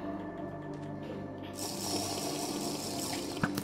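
Water splashing and rushing in Minecraft, a steady wash of liquid sound that swells louder and brighter partway through, with no voices over it.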